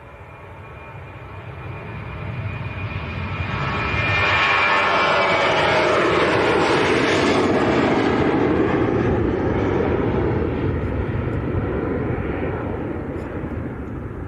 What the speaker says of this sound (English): We'll do that as soon as this aircraft takes off then.